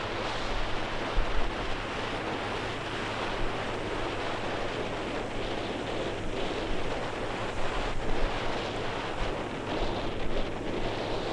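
Strong wind blows steadily at an outdoor plane spotting spot near LAX, a loud continuous roar with buffeting gusts hitting the microphone throughout and no talking.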